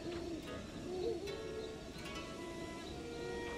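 A bird cooing softly in Kakariko Village in Zelda: Breath of the Wild, a few faint calls over quiet ambient background with no talking.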